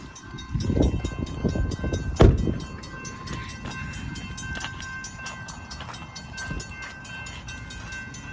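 An Amtrak passenger train passes nearby: rumbling wheels and clattering cars roll by steadily, with a sharp loud burst early on and a continuous hum from the passing wagons, and no talking.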